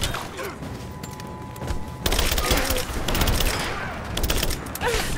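Shotgun blasts and other gunfire in the Rise of the Tomb Raider video game, dense bursts of loud shots with thuds, over background game noise and voices.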